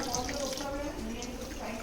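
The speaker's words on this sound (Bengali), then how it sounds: "মাংস ধোয়া হচ্ছে এখন।" Tap water runs steadily as meat is washed in a home kitchen, a continuous splashing hiss close by, with voices in the background.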